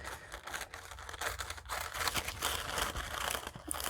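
Paper scraps from a card-making project are cut off and handled, giving close, crisp crinkling and snipping that rises and falls across the few seconds with no speech.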